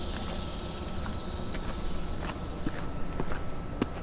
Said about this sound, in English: my feet are like sticking to the concrete